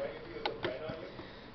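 A living-room drawer slides open with a few faint mechanical clicks and creaks, brief and quiet against a soft room background.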